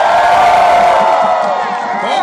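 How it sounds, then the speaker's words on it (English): A crowd at a union event cheers and whoops loudly and steadily, a dense wall of voices with shouts rising above it, tapering slightly toward the end. "Give them a round of applause."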